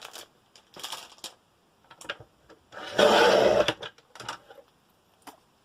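A Tim Holtz rotary media trimmer cuts 600 GSM, 1 mm thick Tonic grey board, giving short clicks and rolling scrapes, then a louder sustained grinding cut of about a second, followed by a few lighter clicks, all close with no talk.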